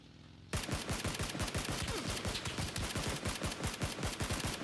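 Rapid video game gunfire bursts in after a brief quiet start, dense repeated shots and automatic fire continuing loud and close until the end.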